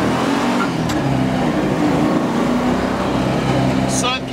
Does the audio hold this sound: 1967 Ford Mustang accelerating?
yes